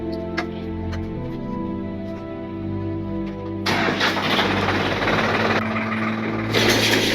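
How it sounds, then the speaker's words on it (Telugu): A tractor engine powering a baler is cranked and catches, shifting from a steady low hum to a loud, rough diesel rattle that keeps running. "ఒకసారి ట్రాక్టర్ ఆన్ చేయి, తెగిపోతుందో చూద్దాం"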